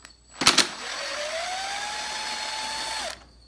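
A power drill or impact driver backs a bolt out: a brief clattering burst, then a steady motor whine that rises in pitch and holds for about two seconds before cutting off, close and clear with no talk.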